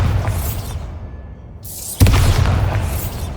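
The Bombarda blasting spell in the Hogwarts Legacy video game goes off as a single sharp, loud explosion partway through, followed by a rumbling crash amid low game ambience.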